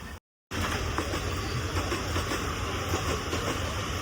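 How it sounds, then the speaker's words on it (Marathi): A train rolls past a busy Friday market in New Panvel, its wheels and carriages making a loud continuous rumble and clatter close by after a brief cutoff at the start. "अशी ट्रेन चालली या साईडला."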